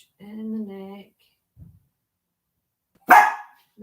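A dog gives one sharp, close bark during a quiet indoor yoga session, after a short stretch of calm speech and a faint thump.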